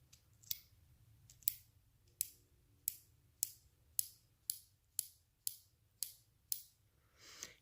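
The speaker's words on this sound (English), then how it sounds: "every time you hear a click, you've actually made what they call like micro adjustments" Sharp, crisp clicks from an ASV brake lever adjuster on a 2009 Kawasaki ZX6R motorcycle, about a dozen evenly spaced ticks in steady rhythm, close and quiet over faint background hiss.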